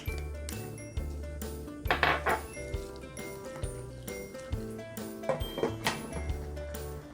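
Cooking sounds at a pot of soupy Korean tteokbokki as vegetables and garlic go in, with repeated clinks and knocks of utensils against the pot and dishes, close and fairly loud, no voices.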